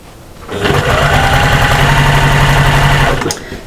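A sewing machine runs steadily for about three seconds, stitching along the bottom of a stiff, interfaced cross body bag with a back stitch, loud and close with no talking.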